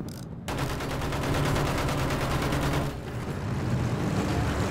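Dense, continuous gunfire in the video game Battlefield 1, with overlapping automatic bursts and shots filling the clip at a loud, steady level and no voices.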